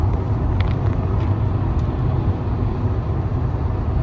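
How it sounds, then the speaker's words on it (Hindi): Car driving on a highway on a road trip, a steady low engine and road rumble with continuous tire noise and faint higher ticks, no talking. "मज़ा आ गया मेरे को गाड़ी चला के"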